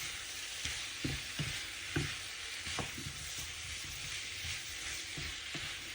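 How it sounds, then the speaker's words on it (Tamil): Baby potatoes with spices sautéing in a pan, a steady close sizzle with occasional light scrapes and knocks as they are stirred, no talking. "இப்போ கொஞ்சம் நேரம் வதங்கட்டும்"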